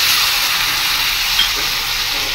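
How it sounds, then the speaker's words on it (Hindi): Tomatoes go into a pan of cooked spices for a Pahadi gethi sabji, giving a steady, loud, close hissing sizzle with a faint bubbling crackle and no talking. "अब हम इसमें डालेंगे अपने टमाटर"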